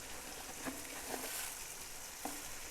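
Spices and chicken frying for pulao, a steady soft sizzle throughout with a few faint stirring clinks, quiet and continuous.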